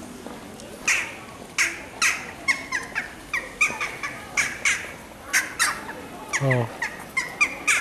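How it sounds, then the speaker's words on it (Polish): Birds squawk and chirp in repeated short bursts at an outdoor street performance in Zielona Góra, with someone speaking over the calls. "jak ładnie ćwierkają."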